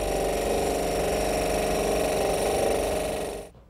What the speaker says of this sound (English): my little scroll saw here can easily stand up to this brass